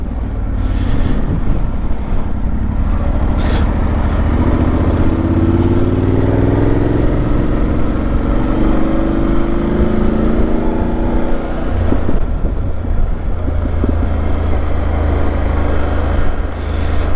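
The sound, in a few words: motorcycle riding at 30 mph with visor open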